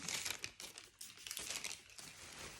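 A small plastic shopping bag is unpacked after a store trip. It crinkles and rustles in quick, irregular bursts, close but quiet, with no voices.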